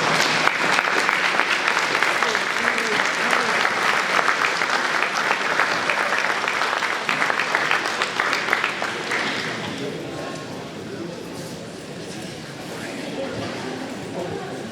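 Audience at a sports wall of honour induction ceremony clapping loudly as the 1973 Calford Midgets team comes on stage, a dense, steady ovation that thins and softens toward the end, with some voices mixed in.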